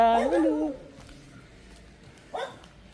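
A dog gives a couple of short yelping barks and whimpers, close by, with a pause before a final short yip.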